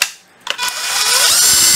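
A Japanese-made cordless electric screwdriver spins up after a short click and whirs steadily and loudly at close range, its pitch rising slightly as it runs.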